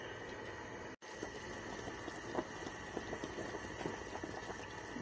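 Pasta simmers in boiling water in a pot on the stove, a quiet, continuous bubbling with soft pops and a brief dropout near the start.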